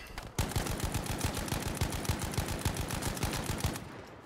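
Rapid automatic gunfire in the video game Battlefield 5, a loud, evenly paced burst of shots lasting several seconds before stopping, with no talking over it.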